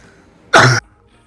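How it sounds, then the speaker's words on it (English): A single short, harsh cough, loud and close, standing alone against a quiet room. "I had a coughing fit."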